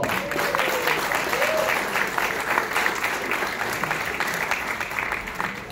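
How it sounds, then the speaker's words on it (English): A film festival audience claps steadily, a dense, sustained round of applause with some faint voices mixed in. "Give yourself a round of applause."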